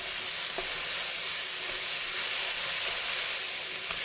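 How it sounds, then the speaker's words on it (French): Vegetables sizzle in fat in a pan for a ratatouille, a steady close crackling hiss that carries on evenly throughout with no one talking. "entendre le légume qui crépite, qui est en train de suer"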